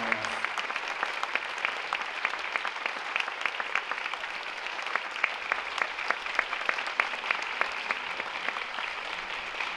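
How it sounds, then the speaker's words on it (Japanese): A large crowd applauds steadily for about ten seconds at the Tokyo International Film Festival closing talk, a dense, even patter of clapping with no voices on top. "皆さんも拍手を続けてくださいました。"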